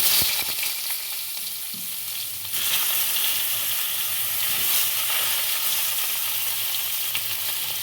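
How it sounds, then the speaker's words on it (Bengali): Brinjal pieces fry in a pan, a close, steady hiss and sizzle that swells louder partway through as the eggplant is stirred, with faint scraping and no voices. "বেগুনগুলো ভেজে নেব"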